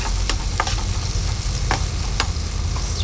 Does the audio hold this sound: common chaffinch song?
no